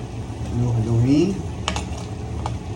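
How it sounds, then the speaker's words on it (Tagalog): Onions and garlic stirred in a frying pan, a close scraping sizzle with a brief voice over it and a couple of sharp utensil clicks against the pan. "Haluhaluhin."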